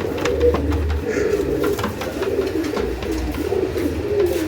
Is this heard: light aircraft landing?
no